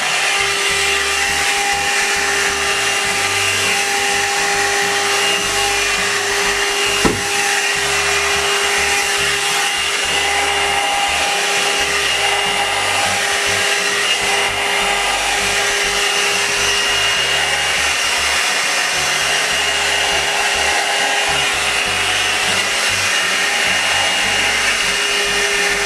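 A budget hair dryer modeled on the Revlon One Step Volumizer runs on its high setting, a steady loud whooshing roar with a constant motor whine that holds unbroken throughout, close to the listener.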